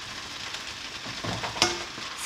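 Shrimp fried rice with soy sauce is stir-fried over low heat, giving a soft, steady sizzle with light scraping and stirring of a spatula in the pan, fairly quiet and close, with no talk.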